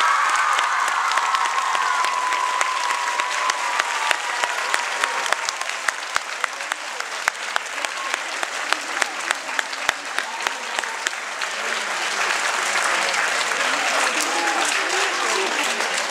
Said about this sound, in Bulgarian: Да поканим с аплодисменти на сцената